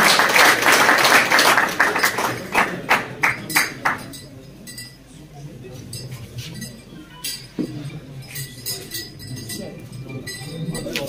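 An audience claps for a participant at the All Kashmir Car Cup award ceremony, hosted by a pigeon sports club. Loud, rhythmic clapping fills the first few seconds, then thins to scattered claps and clinks.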